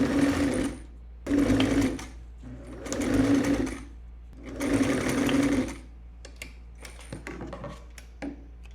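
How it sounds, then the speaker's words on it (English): A sewing machine stitches the side seams of drop-crotch balloon pants, running in four steady bursts separated by short pauses, then a few soft clicks and handling sounds at close range. "I've pinned them in place, and I'm going to sew each side,"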